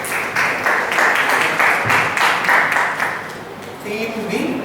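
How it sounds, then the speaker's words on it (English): Audience at a college quiz competition breaking into lively clapping, loud and close, tapering slightly near the end as voices begin to rise under it. "A round of applause to Team A."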